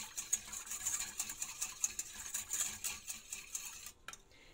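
Milk being stirred into crème fraîche with a utensil, light rhythmic clinks and scrapes against the bowl, fairly faint and close, stopping near the end.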